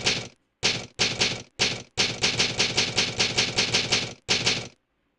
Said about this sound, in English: I don't remember the fucking typewriter being so goddamn loud